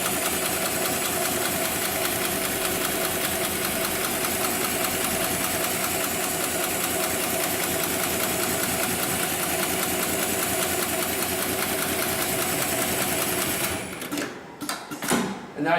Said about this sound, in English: I'll push the pedal on the left-hand side, and that'll initiate the sewing sequence